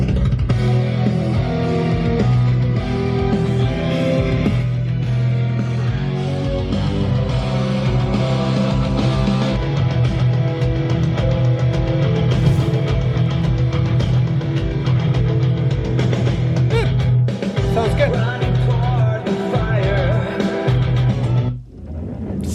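A dense, heavy progressive metal track with driving drums, distorted guitars and layered vocals plays loudly and continuously through studio speakers, nearly cutting out briefly near the end.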